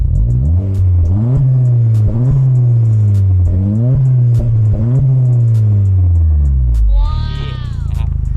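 A throaty aftermarket JTC dual exhaust with rolled tips on a Honda Civic FE revs repeatedly, several rising blips over a rumbling idle, loud and close, ending in a brief higher whine.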